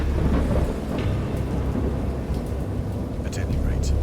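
Heavy rain pours steadily while deep thunder rumbles low and continuous, with a few sharper drops and crackles standing out above the dense wash of storm noise.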